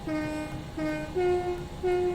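In the Train Sim World 3 game on the UK Cross City route, a train horn sounds loud and close in four clear two-tone blasts, each one short with a brief pause between them, over low rumbling.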